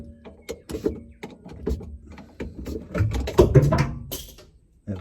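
Vice grips clatter and clank against metal parts of a 1980 Bedford TK truck, with irregular close knocks, rattles and scraping handling sounds spread across a few seconds.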